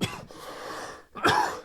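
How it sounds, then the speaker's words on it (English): A man coughs in two harsh bursts separated by a short pause, close and loud, with no talk. "sorry, I'm coughing my guts up now"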